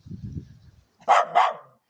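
Two sharp, loud dog barks in quick succession, preceded by a low growling rumble, close to the listener.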